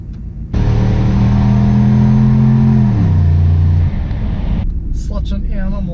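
A turbocharged LS-swapped Cadillac Escalade accelerates hard at full throttle, its engine note climbing, then dropping sharply on an upshift and pulling again. The engine is loud and close, then cuts off abruptly, leaving faint road noise.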